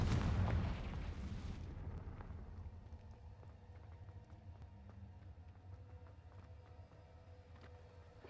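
A Confringo fire-curse blast in the wizarding game Hogwarts Legacy, one loud booming explosion at the start that quickly decays into a low, lingering rumble and faint crackles.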